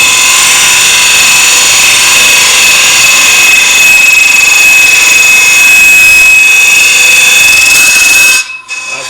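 A hollowing tool cuts into end grain on a wood lathe, a loud continuous whine with a steady high vibration tone throughout, cutting off abruptly near the end.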